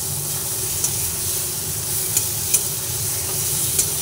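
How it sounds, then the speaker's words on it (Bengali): Potatoes and spices sizzle steadily as they are stir-fried in a pan, with a continuous frying hiss and a few soft clicks of a utensil stirring against the pan. "সুন্দর করে এরপরে আলুর সঙ্গে মশলাটাকে কষিয়ে নিচ্ছি।"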